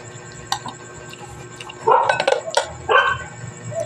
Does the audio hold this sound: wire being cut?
no